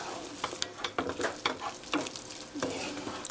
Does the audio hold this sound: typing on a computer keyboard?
no